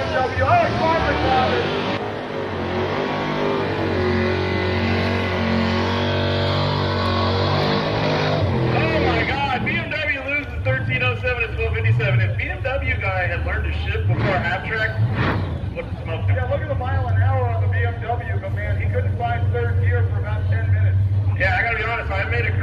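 A long small-block square-body truck at a drag race passes with a loud, rough engine roar that swells and fades, a steady rumble continuing afterward as people talk nearby.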